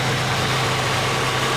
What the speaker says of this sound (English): Yeah, it's really smooth. You can hear the engine.